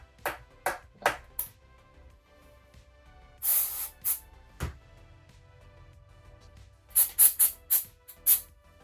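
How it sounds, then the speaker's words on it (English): Short hissing bursts of glue activator spray onto a magnet, several quick puffs at the start, a longer blast midway and a rapid cluster near the end, close and crisp against quiet. "we're going to spray the activator on the magnet so that once I attach the magnet to that glue"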